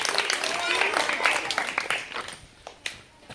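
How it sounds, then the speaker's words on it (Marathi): Schoolchildren clap and applaud in a classroom after a teacher's prompt. The clapping starts as a loud burst of many hands, then thins out into a few scattered, fading claps. "चला टाळ्या द्या तुमच्यासाठी जोरात।"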